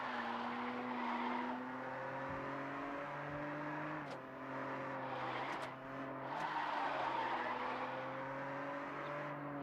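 A race car in the video game Overdrive City roars steadily at high revs, with tire squeals and skids layered over the engine drone throughout, loud and continuous with brief dips in pitch.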